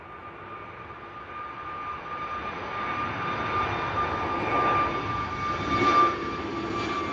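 An easyJet airliner departs Bristol Airport for Belfast, its jet engines a steady distant roar and whine building gradually louder at sunrise, no talk.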